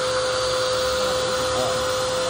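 A car wash vending machine's blower runs continuously, a loud, close, steady whooshing roar with a constant hum and no pauses throughout.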